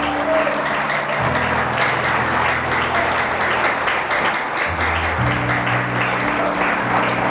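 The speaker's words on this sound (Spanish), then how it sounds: "Dale un fuerte aplauso." A congregation in a worship service claps steadily as a group while sustained organ or keyboard tones play underneath, a moderately loud, even applause.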